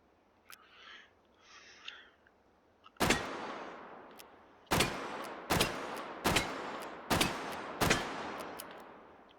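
Six loud, sharp Colt Python .357 Magnum revolver shots in H3VR, fired at a steady, deliberate pace, each with a ringing decay, following a few faint soft noises.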